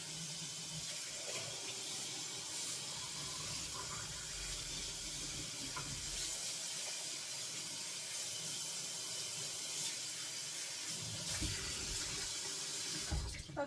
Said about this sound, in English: I like to soak my jars while I'm cooking, just so they have a little time of easy cleanup when I'm done,